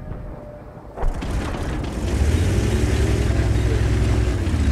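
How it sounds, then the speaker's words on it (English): Tank gunfire in World of Tanks, a sharp boom about one second in followed by a heavy, rising engine rumble that holds steady to the end, no talk. "I'm getting shot at from behind."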